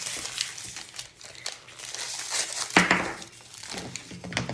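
Plastic toy packaging crinkles and crackles close up as it is opened, in irregular bursts with one sharper tearing snap partway through, and no talk.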